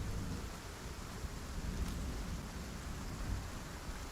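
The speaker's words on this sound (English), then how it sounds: "So the rain seems to be subsiding." Steady heavy rain pours in a survival video game, with a low rumble of thunder underneath, a continuous wash of noise with no voices.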